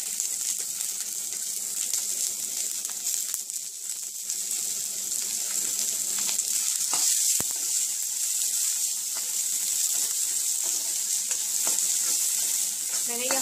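Onion frying in a small amount of oil in a pan for a mixed moong and masoor dal, a steady close sizzle with light stirring that runs throughout, with no talking.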